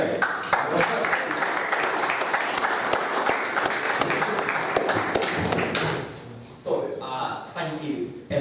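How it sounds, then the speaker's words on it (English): Audience in a hall at Christ Church, Oxford gives a round of applause for Craig, dense sustained clapping for about six seconds that thins out and fades, followed by scattered thumps and a voice starting to speak. "A round of applause for Craig."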